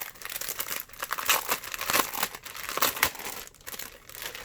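A paper collection pack is unwrapped up close, with continuous crinkling and crackling plastic wrapping over several seconds, alone without talk.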